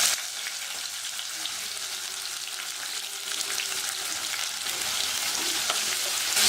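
Sliced onions frying in hot oil with whole spices, a steady loud sizzle that thickens partway through as they settle into the pan, with no voices.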